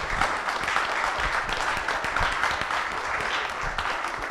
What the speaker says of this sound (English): Round of applause for Damon.